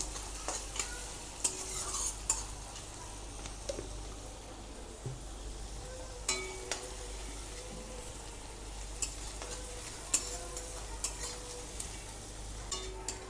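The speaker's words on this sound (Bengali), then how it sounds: "দিয়ে আমি পেঁয়াজটাকে খুব লাল লাল করব, একটু লাল লাল করে ভেজে নেব" Onions with a little sugar frying in a pan until deep red-brown, stirred repeatedly: a soft constant sizzle punctuated by regular sharp clacks and scrapes of a spatula against the pan, close and quiet, with no speech.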